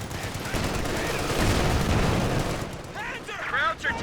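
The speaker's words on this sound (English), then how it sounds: "Don't let this anti-tank gun just solo the Panzer IV though" Rapid gunfire and blasts from an anti-tank gun in the wartime strategy game Company of Heroes 2, thick and loud for the first few seconds, then lighter as a voice talks over it.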